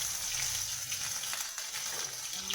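Panch phoron, dried red chilli, bay leaf and grated ginger sizzle in hot oil, a dense, steady hiss with faint crackles heard up close.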